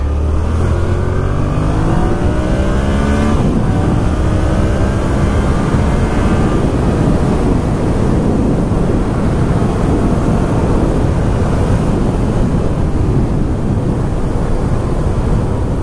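A Yamaha XSR 700 motorcycle with an MT-07 engine accelerates hard at speed, its engine note climbing through the revs before settling into a loud, steady roar mixed with heavy wind rush, with no talking.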